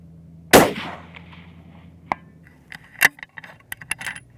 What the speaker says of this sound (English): so I feel like that was a pretty good example of some side hill kneeling shots.